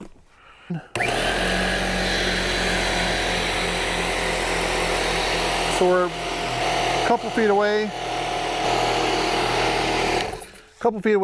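A Craftsman air compressor, plugged in for testing, runs with a steady loud mechanical drone and hum from a couple of feet away, while a person talks briefly over it.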